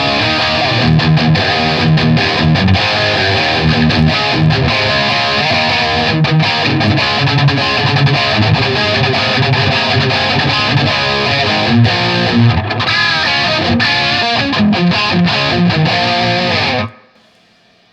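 Electric guitar played through a Blackstar HT Stage 100 MKIII amp with reverb dialed back and a boost engaged, a dense, continuous distorted tone ringing for about seventeen seconds before cutting off abruptly into silence.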